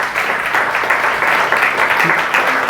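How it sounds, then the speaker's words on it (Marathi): A church congregation claps loudly and steadily during a sermon, a dense, continuous wash of applause filling the room at close range. "या आपण एकदा जोरदार टाळ्या परमेश्वरासाठी वाजव्यात."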